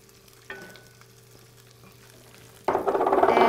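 Chopped onion hits a hot pan for slow-cooked lamb knuckles, setting off a sudden loud sizzle that swells and holds steady after a quiet stretch with a faint earlier tap.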